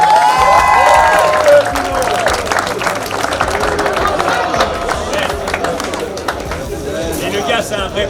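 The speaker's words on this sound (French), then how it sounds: "on peut l'applaudir" Audience applause at a motocross award ceremony at the Lubumbashi 4-hour race, a dense, steady wash of clapping and crowd noise with some whistles and a voice over it, tapering slightly toward the end.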